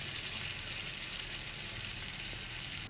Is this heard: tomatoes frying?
yes